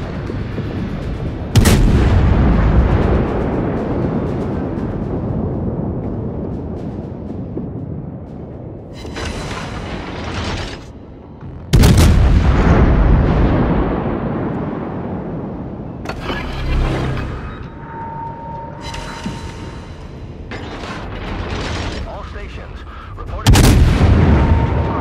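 Heavy naval artillery salvos from the Soviet cruiser Moskva in World of Warships, three loud booming blasts spaced several seconds apart, each trailing into a long rumbling decay with faint mechanical ship noises between.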